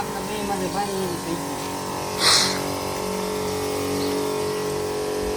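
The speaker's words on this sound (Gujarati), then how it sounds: "ઝાડવાઓને હે ને પાણીની જરૂર છે એટલે મોટર રાખણી ચાલુ કરી છે" A village water pump motor running to water trees gives a steady, continuous hum with some gurgling water, close by, under a person talking.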